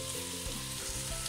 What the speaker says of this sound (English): this sizzling here is a really good sign that I've remembered to turn the gas on